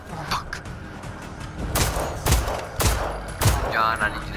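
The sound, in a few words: shotgun firing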